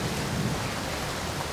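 A thunderstorm roars steadily outdoors with heavy rain and a low rumble of thunder, loud and continuous with no speech.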